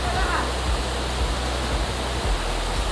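A tall waterfall in the forest of Chhattisgarh, India, pours steadily with a dense, unbroken roar of falling water that stays loud and close throughout, with a faint low rumble beneath.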